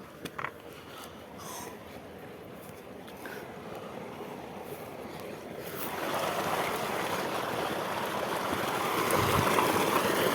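Water gushes from a full borewell outdoors as a broad, rushing roar that swells noticeably louder halfway through and keeps going steadily to the end, with no voices.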